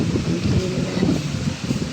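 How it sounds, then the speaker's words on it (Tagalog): Strong wind blows outdoors in bad, rainy weather at Greenfield, a loud, steady low rumble buffeting the microphone with gusty surges throughout. "Lakas na rin ng hangin sa labas."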